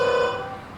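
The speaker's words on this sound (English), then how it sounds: "it's a phone." A phone ringing with a sustained electronic tone that starts loud and fades slightly across under a second, heard alone with no talk.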